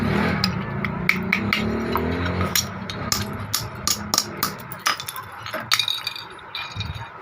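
Hard pieces dropped into a powder grinder machine make sharp, irregular clinks and knocks over a low mechanical hum, the clatters growing more frequent and louder toward the end.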